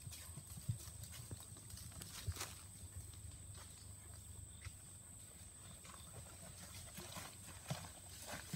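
A sweet-natured horse walks with an even clip-clop of hooves, faint and at a distance, the hoof strikes coming as scattered soft taps against a quiet outdoor background.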